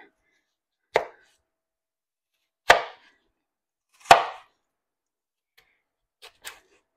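Three sharp, separate knife chops land on a cutting board while chopping vegetables, with pauses between them, followed by two lighter, quicker taps.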